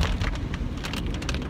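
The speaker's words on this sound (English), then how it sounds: "it's a really rainy day today" Rain falling on a rainy day, a short burst of close, dense patter and splashing drops, fairly loud and continuous with no voices.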